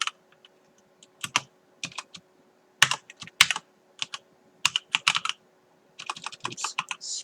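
Scattered bursts of keystrokes on a computer keyboard as JavaScript code is entered for a debugging example, irregular clusters of clicks separated by short silences, close and clear with no voices.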